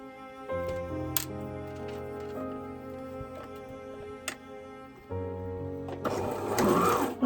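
A sewing machine stitching a quilted wallet, a steady mechanical whir with a rapid ticking needle rhythm that pauses and restarts, close and alone, ending in a brief rustle of fabric.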